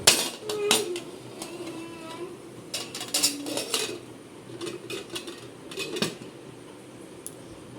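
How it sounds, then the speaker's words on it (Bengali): A metal lid clatters onto a cooking pot on a stove while a papaya and soybean dish for babies cooks, giving a few close, sharp clanks and scrapes followed by quieter handling sounds. "আর একটু দেব আর আমি এটা ঢাকা দিয়ে রাখবো বেশ কিছুক্ষণ"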